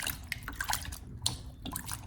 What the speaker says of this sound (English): prepare a large bowl of water, then gently place the avocado in and wash it to remove any dirt and bacteria on the skin